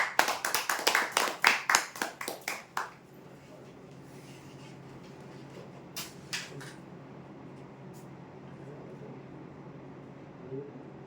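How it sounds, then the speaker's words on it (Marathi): A short burst of brisk applause at a weekly prize draw, a few seconds of clapping that fades into quiet room noise with a couple of faint later claps. "जोरदार टाळ्या होऊ द्या त्यांच्यासाठी"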